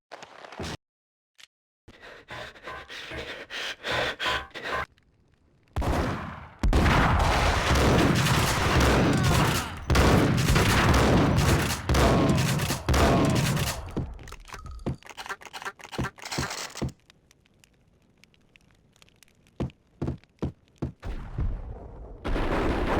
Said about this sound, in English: What the hell are you standing around here for? They're bombing us!